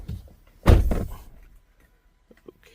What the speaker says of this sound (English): It'll have us open and close the door again.